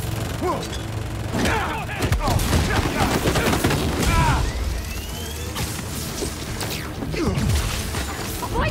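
Rapid bursts of gunfire in Spider-Man 2 during symbiote combat, loud close volleys with crashes and mechanical clatter, dense and overlapping, mixed with game effects and shouting voices.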